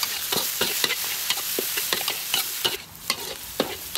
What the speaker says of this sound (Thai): ผัดพริกให้มันกรอบก่อนนะคะ